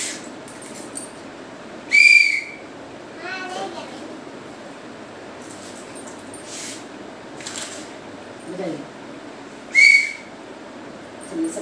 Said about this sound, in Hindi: सीटी है बजाइए